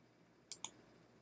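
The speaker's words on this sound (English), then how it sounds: "Now I'll click apply to all." A computer mouse clicked twice in quick succession, close and crisp against a quiet room.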